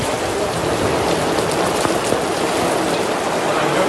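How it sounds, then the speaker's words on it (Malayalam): Heavy afternoon rain pours steadily in a town in Kerala, a loud, dense hiss of drops striking surfaces with no pauses and no voices. "പത്തനംതിട്ട നഗരത്തിലും മലയോര മേഖലകളിലും കോഴിക്കോട് മുക്കത്തും ഉച്ചയ്ക്ക് ശേഷം കനത്ത മഴ ലഭിച്ചു"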